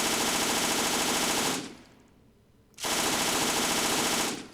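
MG34 machine gun from ARMA 3 fed by a 50-round drum, loud and close in two dense sustained bursts of rapid fire split by a brief pause.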